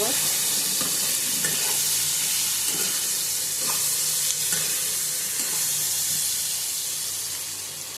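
Mutton with turmeric powder and salt sautéed and stirred in a hot pan, giving a steady, close sizzle with scattered scraping clicks of a spatula throughout, and no talk.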